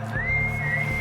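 A voice whistles in imitation of a guard's alarm whistle during a fantasy tabletop game, one sustained, slightly rising tone held for about a second over a low background hum.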